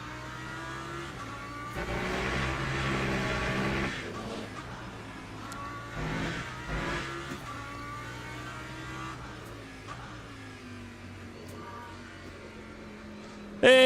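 Race car engines from Le Mans Ultimate rev and accelerate in bursts, rising and falling in pitch as cars pass, with a steady engine hum between surges.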